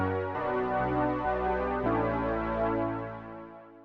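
Dark, heavily filtered sustained synth chord from an Oberheim OB-X, warm and muffled with little top end, shifting notes once or twice before slowly fading out, played alone with no talking.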